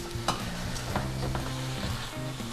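Food fries in a pan on a home stove, a continuous close sizzle with a few sharp scrapes and taps from stirring.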